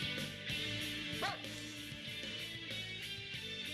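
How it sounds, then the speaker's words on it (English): Dog barking in the video game Persona 4 Ultimax, a few short yips and whimpering barks over a steady game music and ambience bed, moderately quiet. "I pull my axe from my back and turn around in reaction to Koromaru-san's bark"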